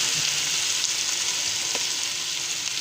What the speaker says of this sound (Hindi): इसको 2 से 4 मिनट को फ्राई करेंगे बंद गोभी को इसके अंदर, तेल के अंदर